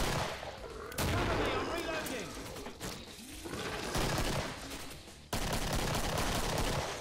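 Bursts of AK rifle fire from the video game Killing Floor rattle in heavy, dense volleys with booming impacts, loud and continuous, dropping briefly between stretches of shooting while players talk faintly.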